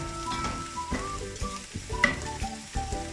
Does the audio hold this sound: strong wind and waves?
no